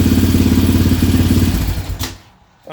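Warmed-up engine of a 2015-or-later Yamaha Raptor ATV fitted with an aftermarket exhaust idles loudly and close by with a fast, throbbing pulse, then a clunk as it drops away toward quiet near the end.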